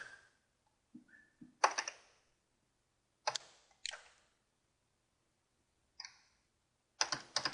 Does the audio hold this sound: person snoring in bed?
no